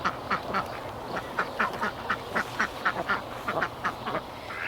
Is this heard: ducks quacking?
yes